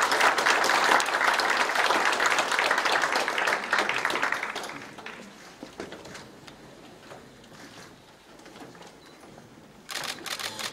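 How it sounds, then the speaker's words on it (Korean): Applause at a press conference announcing the Yangpyeong–Seoul expressway, dense and sustained for several seconds, then thinning to scattered claps and camera shutter clicks before a short final burst. "힘찬 박수 부탁드리겠습니다"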